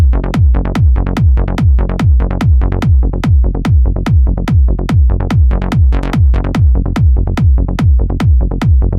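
A plucky trance synth bass rolls between thumping kick drum hits in a tight, driving repeating groove, loud and steady throughout, with nothing else in the mix.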